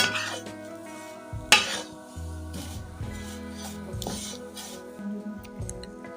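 Vermicelli is stirred lightly in a pan with a metal spoon, producing scattered clinks and scrapes against the cookware, one sharp knock standing out, over a soft background of faint sizzling.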